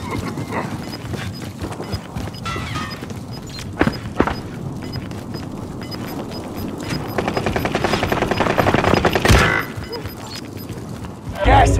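Call of Duty: Modern Warfare gunfire in a rebirth match, scattered single shots and bursts with a sustained rattling stretch of automatic fire, mixed with game noise and talk.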